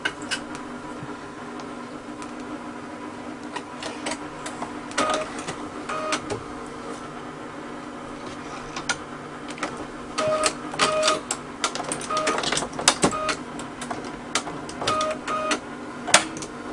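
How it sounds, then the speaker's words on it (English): Sewing machine running steady mechanical stitching while repairing a friend's bag handles, a continuous rattling hum with clicks and short bursts, close and fairly loud, no talking. "I'm going to go ahead and thread my machine, and then we'll get to sewing"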